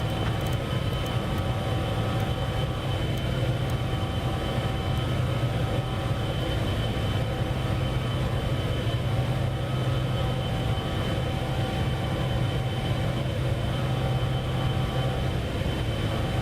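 A Cessna Citation X jet climbs in the Flight FX video game with a steady, loud engine roar and broad hiss that stay constant throughout, with no voices.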